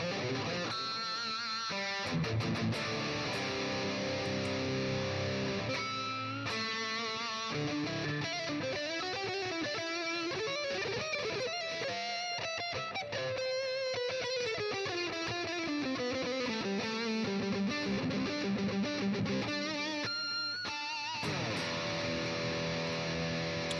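Electric guitar played through a Line 6 Helix JP2C high-gain lead patch, loud and distorted, with sustained singing lead notes and bends over a dense, saturated tone throughout.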